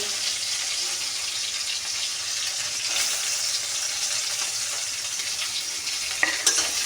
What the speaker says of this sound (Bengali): এখন আমি পেঁয়াজ কুচিটা নাড়াচাড়া করে ভাজবো।